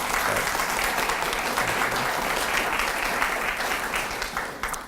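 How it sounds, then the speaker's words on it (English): Steady applause from the audience at a literacy leaders awards ceremony, full and continuous for about five seconds before tapering off, no one speaking over it. "Let's have a round of applause for these folks"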